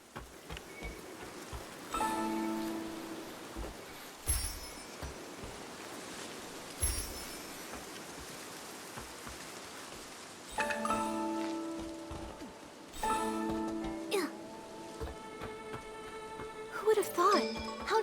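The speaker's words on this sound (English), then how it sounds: "this world have such sporadic and dangerous rain?" Rain falls in the video game Infinity Nikki, a soft, steady patter running beneath game music and characters speaking, with louder swells now and then.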